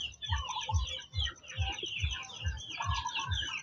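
A mother hen gives soft, rhythmic low clucks, about two per second, close by, with chicks chirping and peeping busily over them and no voices.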